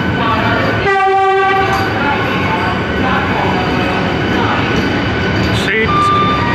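A Vande Bharat T18 electric train passes loud and close with a steady rumble, its horn sounding in a clear held blast of stacked tones near the start and a brief higher note near the end.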